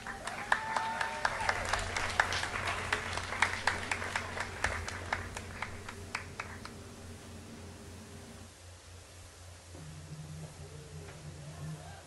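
An audience gives scattered applause for a singer, a series of sharp, moderately distant claps over a low hum, thinning out and fading after several seconds.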